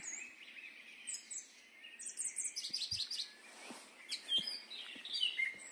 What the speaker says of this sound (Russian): Не знаю, что за птица.